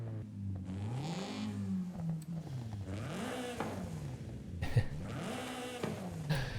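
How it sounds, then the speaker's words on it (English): Car engine revving in the racing game Forza Horizon 5, with repeated rising and falling throttle sweeps and the roar of acceleration filling the whole stretch, loud and alone. "Wait, we gotta listen to the car."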